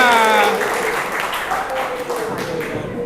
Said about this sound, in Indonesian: Hore, tepuk tangan semuanya.